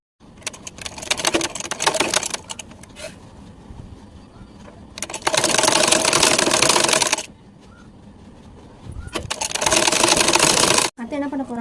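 A sewing machine stitches fabric in several loud, close bursts of rapid, rattling whir separated by pauses, with a person talking in between.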